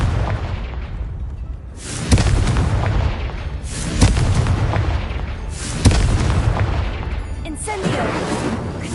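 Repeated Confringo explosive spell blasts in Hogwarts Legacy: four heavy booming bursts roughly every two seconds, each with a sharp crack and a rumbling tail, loud and close.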